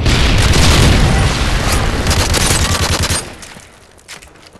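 A Semtex grenade blast in Modern Warfare 3 hits as a loud, close, broadband roar with rattling crackle. It holds for about three seconds, then decays into fainter rumbles and pops.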